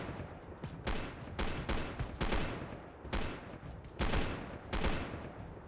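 Rifle gunfire in the Nightmarchers video game: a rapid series of loud, sharp shots, some close together and some spaced apart, with no talking.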